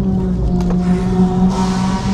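An orange K9 car driving past on a street in Japan, a loud close engine drone with steady low hum and a brightening rush in the last part of the pass.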